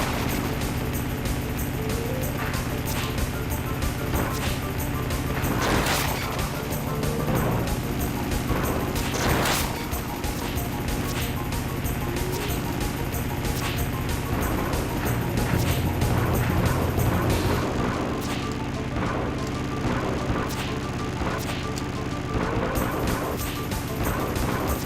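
A constant loud engine roar with repeated smashing crash impacts throughout, dense and unbroken, no talking, from motorcycles crashing in the Final Fantasy VII motorcycle game.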